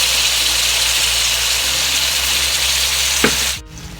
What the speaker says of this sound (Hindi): थोड़ा सा चाट मसाला भून डालेंगे आलू को